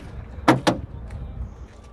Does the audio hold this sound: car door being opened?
yes